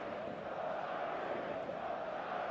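A large stadium crowd in eFootball 2026 roars in a dense, steady wash of cheering and chanting, sustained at an even level throughout with no distinct breaks.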